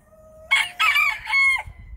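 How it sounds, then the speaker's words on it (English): A farm rooster crows once close by, a loud three-part cock-a-doodle-doo rising then tailing off, followed by faint outdoor rustling. "Do we get a cock-a-doodle-doo over here?"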